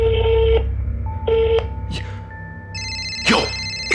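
A phone dials a call, sounding several short DTMF keypad tones, then a ringback tone sounds, close and clear, with faint rustling between tones.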